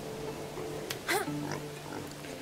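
Pigs oink in the Medieval Dynasty video game, with a couple of short grunts and a brief squeal over quiet background ambience, fairly close and moderately loud.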